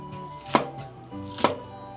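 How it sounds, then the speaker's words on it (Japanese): Kitchen knife cutting lengthwise into green onion (negi) on a cutting board, two distinct sharp chopping knocks about a second apart, close and clear with faint background noise between them. "こんな感じで縦に最初に包丁を入れて"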